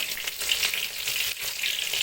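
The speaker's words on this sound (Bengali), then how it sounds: "দুটো ডিম ভাজা হয়ে গেল" Two puffed-up eggs fry in a pan after being flipped, for an egg and potato dish, giving off a close, continuous crackling sizzle with small bursts of spitting oil.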